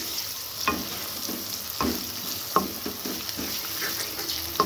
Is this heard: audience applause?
no